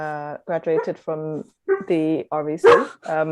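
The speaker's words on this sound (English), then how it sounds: "Sorry, that's my dog." A lurcher dog barks in quick, loud, close bursts of yips and barks, mixed with someone speaking.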